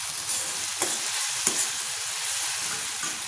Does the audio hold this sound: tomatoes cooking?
yes